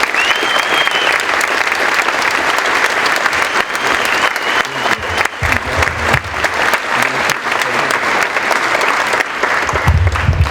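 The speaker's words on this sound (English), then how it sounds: "join me in a round of applause for our guest of honor" An audience gives loud, sustained applause for a guest of honor at a school birthday ball, with dense clapping and a few cheers from the crowd throughout.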